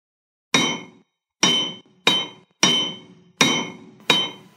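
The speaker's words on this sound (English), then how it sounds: "The sound of clinking metal got louder." Metal clinks sharply six times in an uneven rhythm, each bright, ringing strike decaying quickly into silence before the next, close and loud with no voices.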